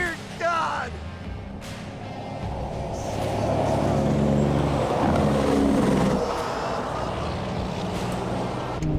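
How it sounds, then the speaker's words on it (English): A giant supercar hauler truck rumbles loudly past at close range, its engine noise swelling and then fading, while someone speaks briefly over it. "That's a big truck, guys."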